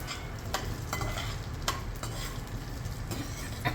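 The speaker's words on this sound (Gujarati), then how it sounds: "હવે તેમાં આપણે કાજુ અને બદામ એડ કરી અને ફ્રાય કરી લેશું." Cashews and almonds frying in hot ghee, a bright, close sizzle with a few sharp clinks of a spoon stirring against the pan, no speech.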